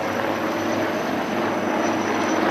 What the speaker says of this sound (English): 2 Rudra helicopters pop up and strike the enemy swift and sure